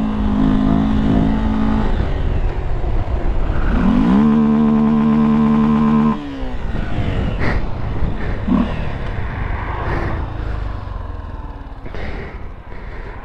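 A small motorcycle ridden and revved on a street at a Sunday gathering in the Baixada, loud and close, the engine climbing through revs, dropping off, then revving again in bursts, with faint street background.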